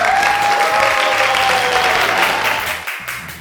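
A crowd at a live event in Surabaya claps loudly and continuously, with background music under it, before the applause thins and fades near the end.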